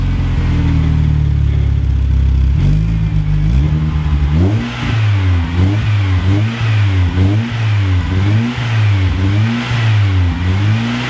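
Loud, raw engine drone, then a straight-piped Mustang 420A car revs repeatedly in rising and falling waves, rumbling and close.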